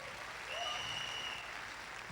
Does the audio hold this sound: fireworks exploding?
no